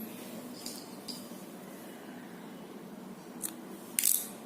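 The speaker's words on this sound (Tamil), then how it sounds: "இந்த மாதிரி கொஞ்சம் த்ரெட்டை எடுத்து விட்டு கட் பண்ணிடணும்" Scissors snip through crochet thread while a crocheted leaf is being finished. Several quiet, crisp cuts are spaced apart, and the last one is sharper and louder, against a faint room hush.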